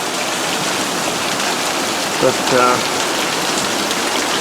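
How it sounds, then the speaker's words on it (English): Heavy monsoon rain pours down outdoors in Prescott, Arizona, a dense, loud, constant hiss of rain hitting surfaces, with a brief spoken word partway through. "it's loud out here with all the rain."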